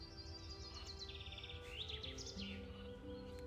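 Birds chirp in the Gothic II video game world, several quick high tweets and trills scattered over a faint steady ambient background.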